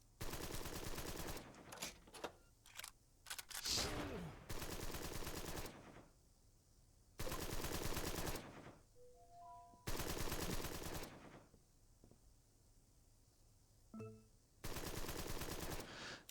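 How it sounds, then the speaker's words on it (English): Machine gun bursts in the turn-based crime strategy game Empire of Sin, several loud sustained volleys separated by quieter gaps with faint game effects and tones in between. "This is our machine gun guy."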